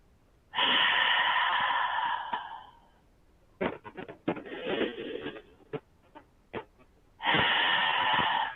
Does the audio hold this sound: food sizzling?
no